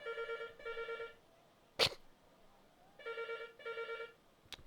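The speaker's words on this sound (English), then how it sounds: "I'm going to let this phone ring." An old-style telephone bell rings in two double bursts, separated by a long pause and a sharp sneeze-like noise, left unanswered in a quiet room in Jade Empire.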